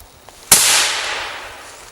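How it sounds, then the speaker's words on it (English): A suppressed .308 rifle firing regular velocity ammunition in woodland gives one sharp report with a short fading tail and no other sound around it. "First gun we're going to shoot is a 308 with regular velocity ammo."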